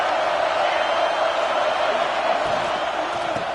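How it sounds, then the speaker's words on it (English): A football stadium crowd roars in a steady, dense wash of noise that holds for several seconds, with no clear voice standing out above it. "This crowd ready to make its presence known."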